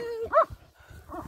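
A German Shepherd or Husky gives a single sharp bark up close at a stone, followed by a quieter yelp after a short pause.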